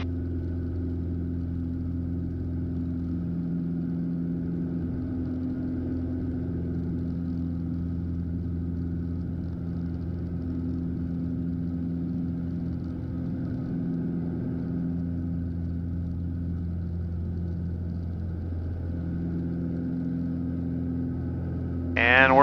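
A single-engine Piper PA46 Malibu drones steadily at full power through the takeoff roll, a constant loud close-up hum with strong low tones, rising slightly at the very end.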